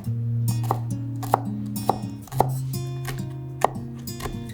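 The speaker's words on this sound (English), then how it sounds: "Grab some scallion and slice it." A knife chops through scallion on a cutting board, giving a series of crisp, irregularly spaced taps, close and clear, over steady background music.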